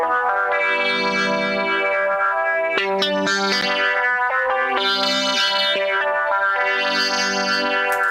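A Stratocaster guitar part drenched in effects, with distortion, chorus and echo, rings out in long sustained swelling chords broken by a quick run of picked notes in the middle, loud and alone for about eight seconds.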